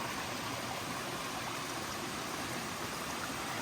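Steady running water from a drinking-water spring on a Carpathian trail near waterfalls, a continuous close rushing splash with no pauses and no voices.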